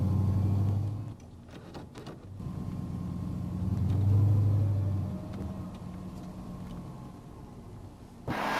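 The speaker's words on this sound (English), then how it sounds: "let's road test the vehicle to see if the transmission is in good working condition" Car driven on a road test to check a 4L60E automatic transmission, with a low engine rumble rising and easing through the gears, steady and close, without talk.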